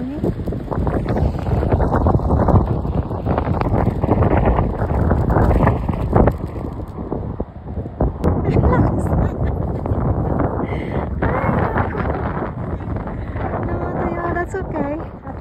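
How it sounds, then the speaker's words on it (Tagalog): Strong wind roars and buffets steadily outdoors at a Day of the Dead gathering in Calgary as winter approaches, a dense, loud rumble that persists throughout while people talk over it. "Grabe yung lakas ng hangin."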